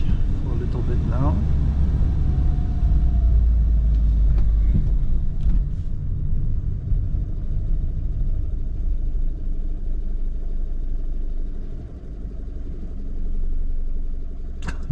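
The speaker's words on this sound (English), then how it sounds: "Stuck in traffic for a little bit now." A 1996 Toyota RAV4 J Touring with a five-speed manual sits in slow traffic, its cabin filled with a steady low engine rumble and road drone, with faint brief clicks and passing-vehicle noise over the rumble.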